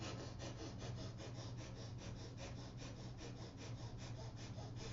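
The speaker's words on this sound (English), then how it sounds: "So, strong breath of fire through the nose, okay?" Rapid, even, forceful nasal breaths pumping in a steady rhythm, breath of fire yoga breathing, close and fairly quiet, with no talking.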